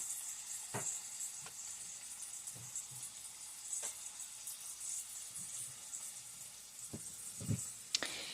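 Ground turkey cooks in a pan for a stew under a faint, steady sizzle and hiss, broken by a few light clicks and knocks from the kitchen, with no one talking.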